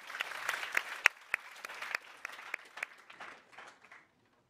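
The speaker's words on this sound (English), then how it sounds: "And a big round of applause for everyone again." Audience applause at a conference session on ocean carbon dioxide removal, a steady burst of clapping from a crowd that tapers off and stops, with no talking over it.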